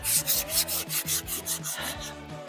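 A sander strips paint from a wooden rocking chair, giving a rapid, rhythmic rasping of short repeated strokes, close and alone.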